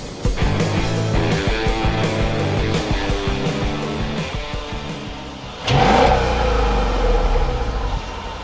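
A Mercedes S-Class luxury saloon accelerates hard during an acceleration test, its engine note rising steadily and loud, then surging sharply louder as it pulls away.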